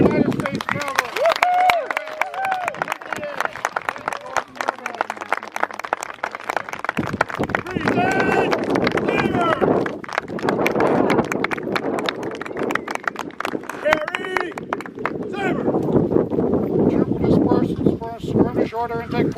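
Horses of the United States Cavalry ride in at a Civil War encampment demonstration, hooves clopping in rapid rhythmic trots on the ground, close and loud, with crowd voices, cheering and some clapping mixed throughout.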